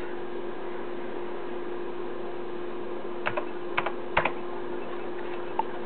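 Keys clatter on an old 8088 desktop computer keyboard running WordPerfect, a short scattered burst of clicks over a steady machine hum and hiss, close up.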